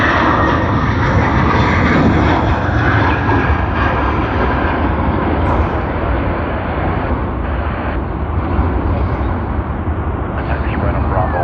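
An aircraft taxies at Sydney Airport, its engine a loud, steady, broadband roar that continues throughout, partly overlaid by radio chatter.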